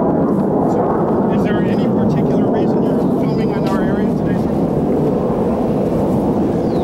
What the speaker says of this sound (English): As soon as the jet's done